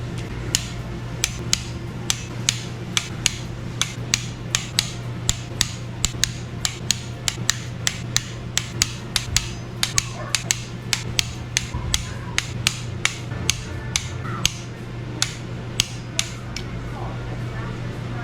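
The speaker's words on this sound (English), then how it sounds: "Torquing to 55 foot-pounds." A torque wrench tightening bolts to 55 foot-pounds on a Honda K20/K24 engine build, sharp metallic clicks repeating at an uneven pace over a steady low hum, close and clear.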